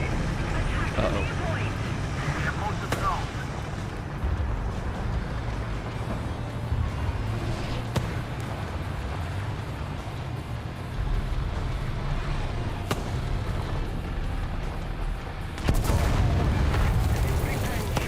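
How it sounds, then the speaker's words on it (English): An artillery barrage in the War Thunder tank game, with deep, rumbling booms and blasts over a continuous engine drone. A player talks over it and gameplay noise sits underneath. "Artillery barrage on its way."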